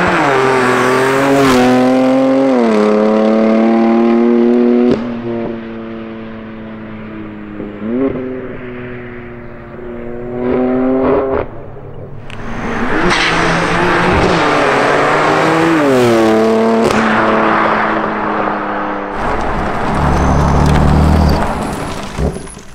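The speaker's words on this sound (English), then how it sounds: "Let's go and get some flybys" A heavily modified BMW M4 CS roars past outside, its engine note rising and falling through gear changes as it approaches, screams by loudly, then returns for further passes with sharp revving bursts.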